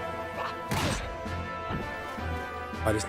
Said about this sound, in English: I just knocked my power strip down. That's what all that noise is.